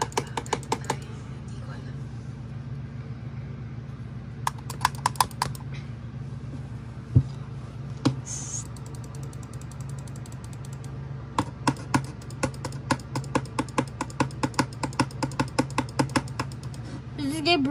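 Rapid mouse clicking while playing a neal.fun browser game, sharp close taps arriving in dense bursts and scattered singles over a quiet background, with a few pauses between runs.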